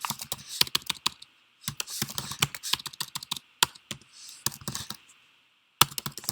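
Close keyboard typing comes in quick bursts of clacking keystrokes separated by short pauses, fairly quiet and with no voices.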